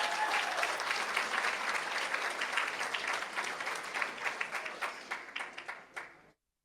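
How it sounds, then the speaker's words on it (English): An audience at a board meeting applauds coaches and teams, a sustained wash of many hands clapping at moderate distance that gradually thins into scattered claps before stopping abruptly. "Let's give the coaches and teams a round of applause"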